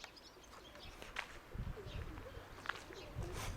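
Pigeons, including a white one, coo softly at a moderate distance in a short outdoor stretch, with a few low throaty calls rising over faint background noise.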